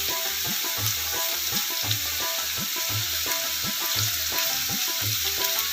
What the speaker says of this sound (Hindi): 2 से 3 मिनट हमने इनको इस तरह से फ्राई कर लेना है और निकाल के रख लेना है।